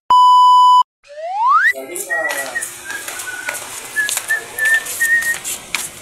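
A person whistles a rising, sliding tune, preceded by a sharp electronic beep, with a mix of voices and other noise continuing behind.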